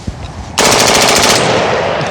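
An AK rifle firing rapidly at a target: after a brief quiet moment, a loud, close burst of fast, evenly spaced shots, followed by a ringing, echoing tail.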